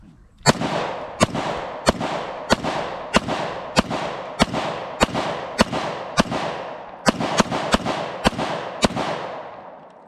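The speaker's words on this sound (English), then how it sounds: "Very first shots out of the VIS-100." FB-Radom VIS-100 M1 pistol firing about fourteen sharp, loud shots in a steady rhythm of roughly one every half second to second, each crack followed by a brief echoing tail, with no voices.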